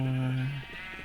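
A single sheep bleat in a block-building video game on a sheep farm, one steady drawn-out call lasting under half a second before fading into faint background tones.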